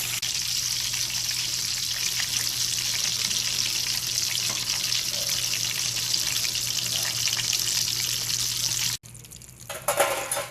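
Breaded pork chops sizzling steadily in a frying pan, a dense even crackle of hot oil that runs unbroken for most of the stretch, then cuts briefly as the chops are turned over and resumes near and loud.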